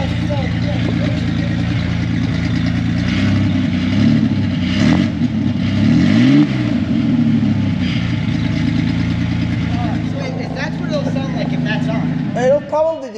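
A Ford Ranger with a muffler delete idling loudly and rumbling, its engine note rising and falling through a couple of revs, with people talking over it.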